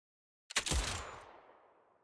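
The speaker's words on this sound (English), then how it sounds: "A crisp gunshot rings out." A single crisp gunshot in Zenless Zone Zero breaks the silence, a sharp close crack followed by a fading echoing tail, heard alone with no talk.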